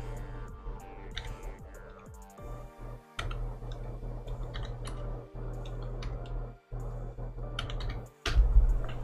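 Keys clatter on a computer keyboard as a name is typed during a Demonfall video game session, with quick close clicks in bursts over a steady low game hum and no talking.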